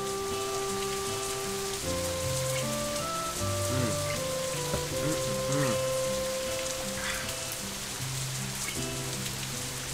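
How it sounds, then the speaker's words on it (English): Steady rain pouring down in the Katawa Shoujo visual novel game, a dense continuous hiss of falling drops under soft sustained piano and synth background music, constant and even throughout. "Rainwater is relentlessly pouring down from the blue-grey sky outside, streaming down the glass of my window"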